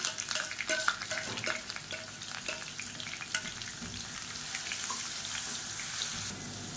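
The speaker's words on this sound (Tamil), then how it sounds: "இப்போ அரைச்சி வச்சுருக்க வெங்காயம் வரமிளகா பேஸ்ட்டை சேர்த்துக்கலாம். சேர்த்துட்டு பச்சை வாசனை போக வதக்கி விட்டுக்கலாம்." Ground onion and dried red chili paste sautés in hot oil for a chutney, giving a steady close sizzle broken by repeated spatula scrapes and stirs.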